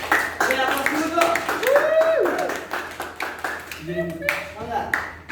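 A classroom group claps for a few seconds, a brief patter of applause from a small audience mixed with overlapping chatter and talk.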